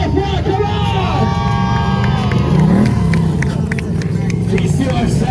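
Cheering and hubbub from a stunt show crowd swell loudly beside a revving motorcycle engine, with a voice talking over the din.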